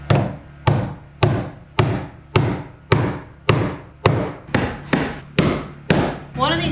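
A hammer drives large, rough nails into pre-drilled wood on a frontier cabin build. Eleven sharp, evenly spaced blows ring out close by over about seven seconds, each one decaying quickly with a faint metallic ring.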